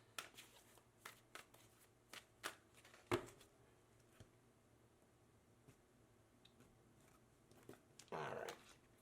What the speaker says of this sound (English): Pull out cards for you and for them, and then we'll get some clarifiers.